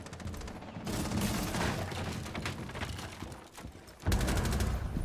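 Gunfire in Rainbow Six Siege comes as dense bursts of shots with short pauses between them, loud and close, and no voice can be heard over it.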